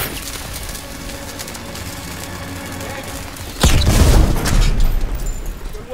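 A sudden loud boom erupts midway through low rumbling background noise in the video game Call of Duty: WWII, D-Day level, followed by a lingering roar and debris-like crackle.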